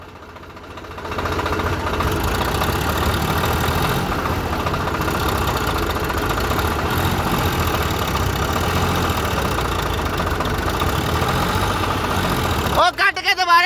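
A tractor engine idles with a steady low rumble at close range, with a brief burst of clattering noise near the end.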